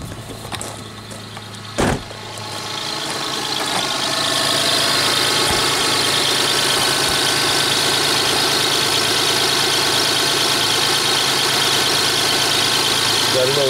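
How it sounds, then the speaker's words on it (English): A Lexus engine idling in park nearby, starting quietly, then settling into a loud steady hum with a constant mechanical drone after a few seconds. "Vehicle's running, it's in park, it's idling."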